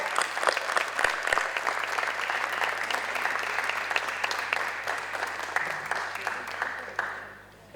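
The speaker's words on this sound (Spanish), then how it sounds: "démosle un fuerte aplauso a Estudio Llorca Durá" An audience claps steadily at an architecture event, a dense sustained round of applause in a hall that thins and fades out near the end.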